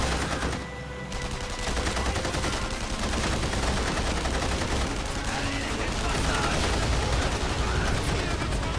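Sustained automatic fire from an MP44 rifle in The Saboteur video game, a dense continuous rattle of rapid shots with loud game effects throughout.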